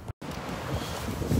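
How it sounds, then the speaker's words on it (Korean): Strong wind roars across the snowy summit of Taebaeksan mountain in winter, a loud continuous rush with heavy microphone buffeting after a brief dropout at the start, with no talking. "바람 소리가 대박이에요."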